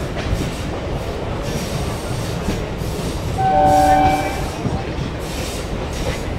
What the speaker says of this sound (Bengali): চলো, আর কিছুক্ষণের মধ্যে ট্রেনটা ছাড়বে।